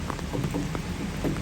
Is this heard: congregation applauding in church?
no